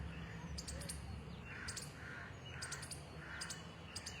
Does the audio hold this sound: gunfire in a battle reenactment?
no